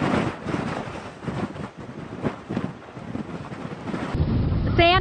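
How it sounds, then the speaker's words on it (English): Strong wind in a dust storm roars and buffets the microphone in loud, continuous gusts, with a deeper rumble building toward the end. "Wind speeds have been increasing."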